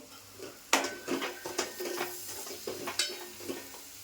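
Coriander leaves drop into a hot tempering of oil with coriander powder, curry leaves and homemade red masala for an elephant yam dish, setting off a sharp burst of sizzling followed by crackling pops and light utensil clinks.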